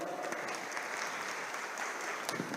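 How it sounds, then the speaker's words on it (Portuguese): Lecture audience applauding to welcome a speaker, a dense, steady wash of clapping that fills the room for the whole stretch at an even loudness. "Vamos receber com aplausos"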